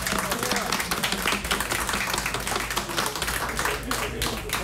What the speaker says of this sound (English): give a round of applause to all the tech support staff at TWiT